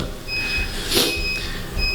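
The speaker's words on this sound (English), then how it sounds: "That's going to go off. It's some kind of alarm. It goes off 6 o'clock every day." A daily six o'clock alarm gives off thin, high electronic tones that stop and start in a steady pattern over a low background hum.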